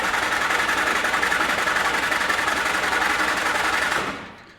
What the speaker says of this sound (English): Double check that that is in neutral, and let's crank the key.